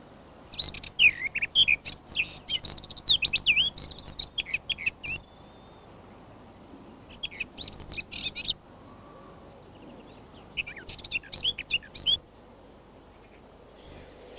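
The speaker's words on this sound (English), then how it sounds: "You may hear a scolding call and a song which usually comes in short bursts and is particularly melodious." Garden bird giving a scolding call and melodious song in short bursts, several separate high chirping phrases with quiet gaps between them, fairly close and clear.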